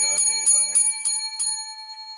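A small bell is struck five times in an even, slow rhythm, each bright ring clear and close, with a long tone that fades away after the final strike; a voice speaks over the first few rings.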